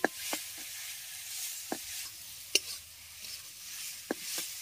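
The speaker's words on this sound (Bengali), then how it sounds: "এবার এটাকে আমি 2 মিনিট ভেজে নিচ্ছি" Bottle gourd and prawns frying in a pan for lau chingri, a soft steady sizzle under a few sharp scraping stirs of the spatula, close and fairly quiet with no talking.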